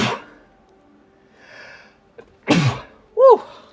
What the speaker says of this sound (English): Sneezing in my shirt there.